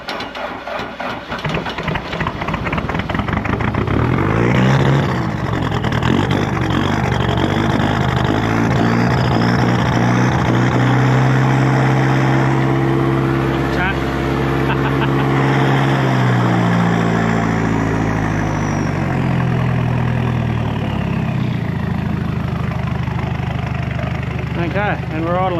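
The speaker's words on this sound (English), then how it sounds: "Okay, and we're idling again." A Daihatsu Scat engine idles with a steady, loud, close mechanical drone and shifting tonal whine, dipping and recovering midway, while people talk over it.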